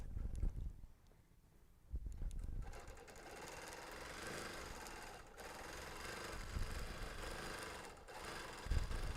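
A sewing machine runs in sustained stitching bursts, a steady mechanical whir and clatter that stays fairly loud through most of the stretch after a brief quieter start.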